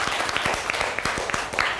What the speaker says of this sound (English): Clap everybody for him